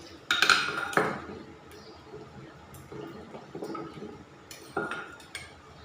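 A metal cooking pot is washed with water, with sharp clanks and scrapes of the pot near the start and again later, between soft splashes and trickling water, close by and with no talking.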